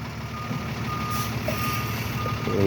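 A truck backing up by a building on Center Street in West Roxbury sounds faint, steady reversing beeps over a constant engine rumble and outdoor noise, with no talk.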